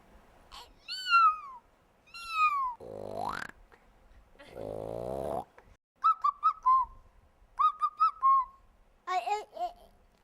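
A voice imitates cat meows, two drawn-out calls, followed by lower groaning sounds and quick whistled chirps, all close and clear.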